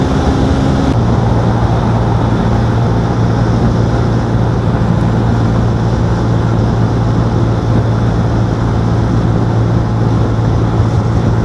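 125cc motorcycle held at full throttle while climbing a significant hill on a long-distance tour: a steady, unchanging engine drone under heavy wind rush, loud and continuous throughout, with no talking.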